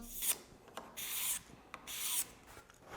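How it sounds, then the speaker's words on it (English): Card scraper and hand sanding work on oak stair railings make a series of dry, rasping strokes, about four close bursts in a steady back-and-forth rhythm, heard near and alone. "the best combination is the satisfying card scraper and then just roughing it by hand"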